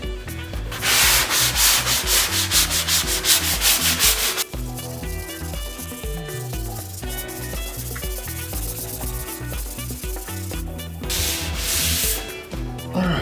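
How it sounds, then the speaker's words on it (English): Dried patching compound on an interior wall is sanded by hand in brisk back-and-forth strokes, a loud, rhythmic scratchy rubbing that pauses briefly partway through and then resumes. "So we're gonna go ahead and get this sanded,"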